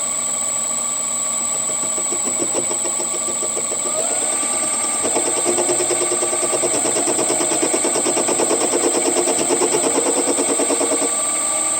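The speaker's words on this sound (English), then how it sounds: "300 RPM maybe. And here we go. Carbide tip. Indexable carbide tip." Sieg mini lathe turning at about 300 RPM with an indexable carbide-tipped tool, a steady motor whine and rapid chattering cut that grows louder and rougher midway, running alone without talk.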